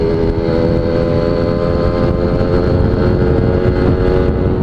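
A Suzuki GS Tornado motorcycle engine runs at high revs, a loud, steady buzzing drone that holds evenly throughout with no voices.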